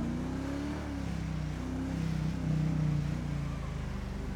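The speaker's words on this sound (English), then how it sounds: "I want to hear this fucking engine roar." A car engine in a video game roars and revs, a loud sustained mid-low drone that rises and falls in pitch, filling the whole stretch without a break.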